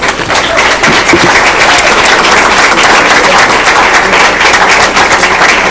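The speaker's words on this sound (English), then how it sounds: "let's give these girls a round of applause" A school board meeting audience gives loud, sustained applause for a group of girls, a dense continuous wash of many hands clapping close by.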